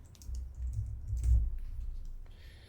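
Quick clattering keystrokes on a computer keyboard, typing out a word in a map editor, close and moderately loud, with a soft mouse-like click near the end and no speech.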